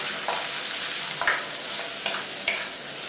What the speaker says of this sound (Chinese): 翻炒到五花肉变色。